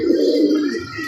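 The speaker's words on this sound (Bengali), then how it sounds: "এই যে আর্মি কবুতর।" Army pigeons at a racing loft coo in a single low, throaty, rolling call, close and clear with almost nothing else audible.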